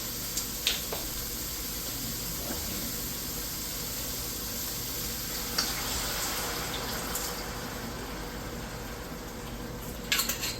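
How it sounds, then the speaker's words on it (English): Artichokes browning in a hot pan give off a steady, close sizzling hiss that holds evenly throughout, broken by a few faint clicks and clinks. "just going to let this cook and let the artichokes get a little brown."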